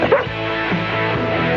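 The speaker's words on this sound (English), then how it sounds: "That's my dog." A dog barks and yips close by in a room, heard briefly with a few sharp, whiny barks over a steady background hum.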